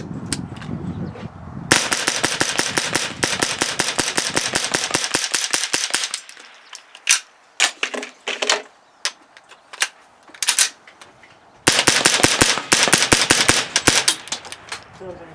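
Rapid .22 LR gunfire from an AR-style rifle fitted with a CMMG rimfire conversion kit, loud sharp bursts of fast repeated shots with a sparse stretch of scattered single shots and handling noise between, then another rapid string.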